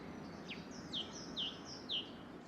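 Small forest birds, such as blue jays, give four short, bright chirps spaced about half a second apart, thin and fairly distant over a quiet, faint background hum.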